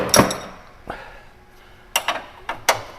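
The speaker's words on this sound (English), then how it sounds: "I grab a couple of 17 millimeter wrenches" Two 17 millimeter metal wrenches clink and clatter as they are picked up and handled, with a loud opening clank, a faint ring afterward, then several quicker metallic knocks, close and without speech.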